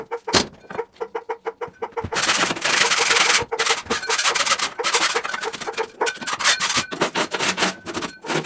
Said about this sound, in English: Let's get scraping.